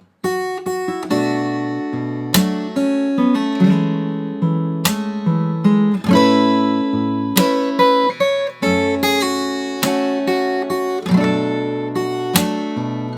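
Solo fingerstyle guitar picks through the second half of a song's chorus, bright plucked melody over ringing bass notes at a steady pace, heard close and clear without any talking.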